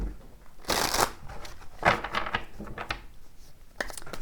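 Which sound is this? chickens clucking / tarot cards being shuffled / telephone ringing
tarot cards being shuffled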